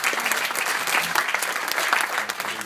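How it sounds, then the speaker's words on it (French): Studio audience applauding on a French television talk show, steady dense clapping sustained throughout at moderate loudness, with no voices over it. "on peut les applaudir."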